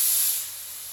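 A paint spray gun on a Mazda 3 repaint hisses with compressed air in a close, steady rush that starts louder and eases to a lower, even hiss within the first half second.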